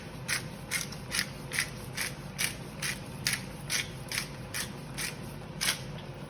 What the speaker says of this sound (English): So we're just going to put some cracked black pepper,